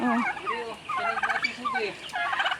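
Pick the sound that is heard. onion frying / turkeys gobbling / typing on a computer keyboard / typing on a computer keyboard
turkeys gobbling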